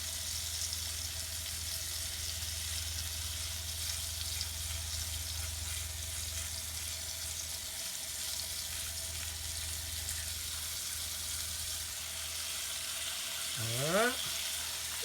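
Floured chicken pieces fry in an electric skillet with a steady, faint oily sizzle that continues throughout; a brief scraping squeak comes near the end.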